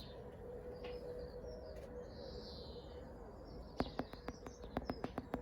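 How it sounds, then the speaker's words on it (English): A bird taps on a garden mirror on an early morning, a run of about ten sharp, quick taps in the second half, close by over steady outdoor ambience with faint birdsong. "There's a tippy tapping and there's a bird sitting on the top of the mirror."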